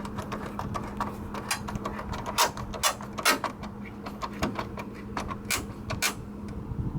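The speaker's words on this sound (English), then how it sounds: "put these screws back in." Screws driven back into a 1997–2004 Ford F150 front grille, a busy stream of close clicks, ratcheting taps and light metallic knocks over a faint steady hum, with no talk.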